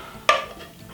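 Two pieces of bacon meet a hot pan with a single sharp, brief tap and sizzle at close range, then fade into a quiet hiss.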